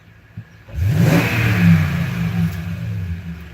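A pickup truck engine kicks on and revs up loudly, holding a strong, steady mid-pitched roar that peaks briefly before easing slightly, close and alone with no talk.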